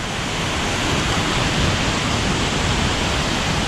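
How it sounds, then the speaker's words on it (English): A waterfall seen from a bridge on a woodland walk roars as a steady, dense wash of rushing water, loud and continuous with no talk over it. "I can see another waterfall underneath it"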